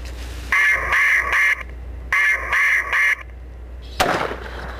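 A duck call quacks in two rhythmic bursts of three during a hunt in Illinois, followed by a sudden loud blast and its fading rumble.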